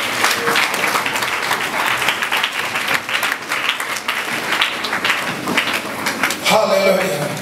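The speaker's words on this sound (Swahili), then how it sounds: "Piga makofi kwa Mungu." A church congregation claps their hands for God at a Swahili worship service, producing dense, loud, continuous applause that rolls on for several seconds, with voices mingling underneath.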